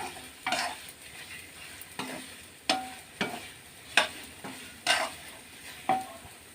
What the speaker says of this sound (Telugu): ఇంక పోపు పెట్టుకుందాం.